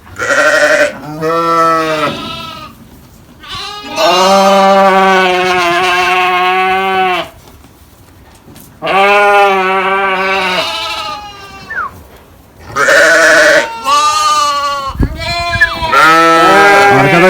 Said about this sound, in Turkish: Koyunların da şöyle göstereyim.